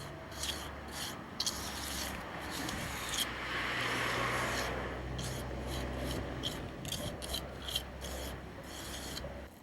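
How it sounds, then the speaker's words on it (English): A pointing trowel pressed and scraped against mortar at the edge of a stone while building a stone wall, making close, continuous gritty rasping and rubbing with short breaks. "press the edge of the trowel to the edge of the rock"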